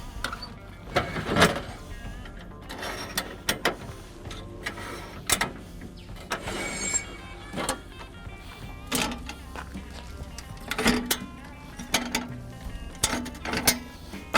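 A ladder is pulled out of a storage compartment on a Toyota Land Cruiser 70 camper, giving a series of nearby clunks, scrapes and latch clicks at an irregular pace, with occasional faint talk.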